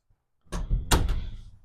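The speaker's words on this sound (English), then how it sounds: "I'm just going to open the door here real quick for my kitty" A house door is opened to let a cat in: a short scrape and thunk of the latch and door moving, followed by a second louder clunk, close by and with no talk.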